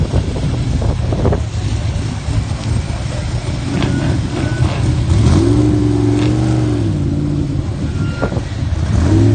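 A Chevrolet Corvette race car drives past on a Las Vegas Motor Speedway track during a street car invitational, its loud engine note rising and shifting as it passes close by, with wind buffeting the microphone.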